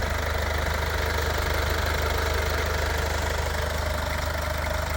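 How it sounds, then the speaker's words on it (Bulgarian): A Mercedes C220 AMG 4MATIC engine idles steadily up close, a constant low hum with a faint rhythmic knock, loud and unchanging without any talk. "Ето и двигателчето."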